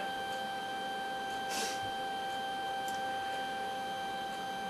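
A document scanner runs with a steady electronic whine and mechanical hum, broken by a brief whoosh and a faint click.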